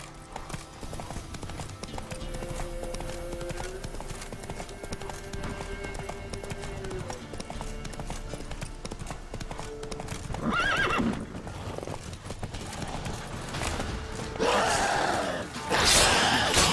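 Galloping horse hooves in The Witcher 3: Wild Hunt, a steady clip-clop over game ambience, with a horse whinny and a loud snorting breath near the end.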